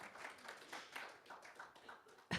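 A church congregation at a Sunday service gives light, scattered applause, soft and somewhat distant, ending with a sharp close knock.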